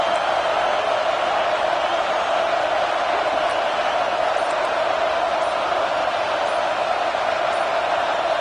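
A packed college football stadium crowd roars for the home defense at an Oklahoma State game, a loud, steady, unbroken wall of cheering and noise from distant stands.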